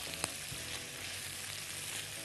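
Onions and zucchini sizzle steadily in a hot pan, a quiet even frying hiss with a few faint stirring clinks.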